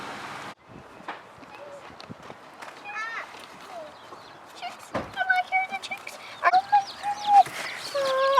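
Day-old chicks under a heat lamp peep and chirp in quick, high bursts, faint at first and then louder and busier.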